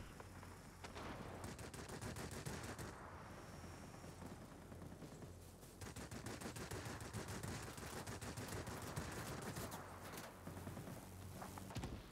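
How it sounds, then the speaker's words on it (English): Anti-aircraft guns from the naval game World of Warships fire in a dense, continuous rattling barrage, loud and sustained with brief lulls, layered over a low rumbling battle backdrop. "Oh, look at all those AA guns doing so much damage."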